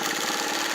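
A Singer 301A sewing machine runs steadily, its motor hum and rapid stitching forming a dense, continuous mechanical whir with no pauses, close and moderately loud, in a brief burst.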